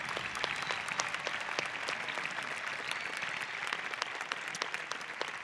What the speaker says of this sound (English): Audience, please join me in applauding their efforts